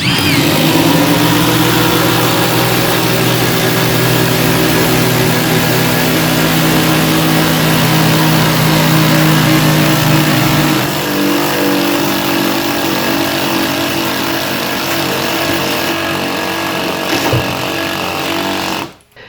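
Milwaukee M18 and M12 impact drivers, with another impact driver, drive 6-inch, 1/4 inch lag bolts. The hammering is loud and continuous, with a rapid rattle that runs for nearly twenty seconds before stopping abruptly.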